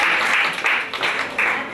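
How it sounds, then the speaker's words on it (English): Audience clapping at a cooking talk, a short steady burst of applause heard near and fairly loud without talk. "Y'all gonna clap."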